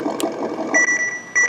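A Tamiya Toyota Tundra High Lift RC truck's radio, with an MFC-02 unit, gives an alarm of two short, loud electronic beeps after a stretch of low rumbling noise.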